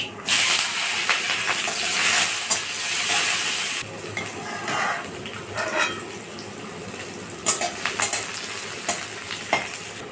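Onion, garlic and green chilies fry in hot oil with a steady sizzle, while a utensil stirs and scrapes the pan in intermittent clattering strokes close by.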